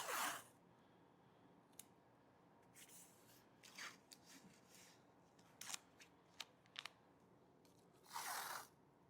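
Painter's tape is pulled off its roll in a quiet workshop, with a few short tearing rips and crackles scattered between pauses and a longer, louder strip of tape unspooling near the end.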